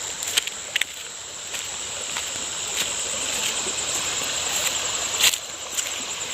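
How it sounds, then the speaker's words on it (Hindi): A small village stream (nala) trickles and flows steadily outdoors, a soft continuous wash with occasional faint clicks and insect-like chirps, no talking. "देखो हमारे गांव के ये नाला"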